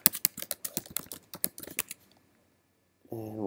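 Rapid keystrokes on a computer keyboard while registering a test user in a web app, a quick irregular burst of close, crisp clicks that stops into silence before a brief voice enters at the end.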